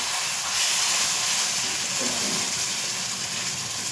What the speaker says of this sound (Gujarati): હવે આપણે એમાં છે ને પાણી એડ કરવાનું છે